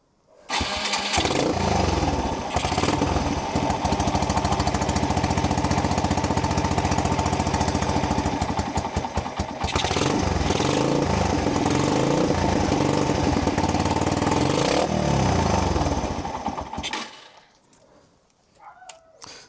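A 30-year-old abandoned motorcycle's engine starts and runs loud and close, with a rough, chattering idle and repeated revs. It cuts out near the end, leaving quiet.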